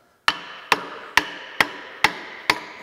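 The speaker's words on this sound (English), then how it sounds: "Take my lead hammer and just kind of" Six evenly spaced, sharp metallic taps ring out as a lead hammer knocks a part onto a Famco 5C arbor press during restoration, each strike close and distinct with a short decaying ring.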